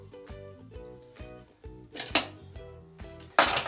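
Pasta mixed with cheese sauce in a big bowl gives irregular clinks and scrapes of a utensil against the bowl, with a couple of sharper, louder knocks near the middle and end, close and otherwise quiet.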